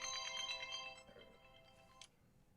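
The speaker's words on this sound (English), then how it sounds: "That's a different ringtone, folks." A telephone ringtone plays a bright, repeating melodic pattern for about a second and then fades, ending with a faint clink.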